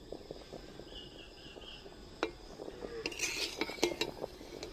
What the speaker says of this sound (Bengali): হালকাভাবে পুলি পিঠেগুলো নাড়তে হবে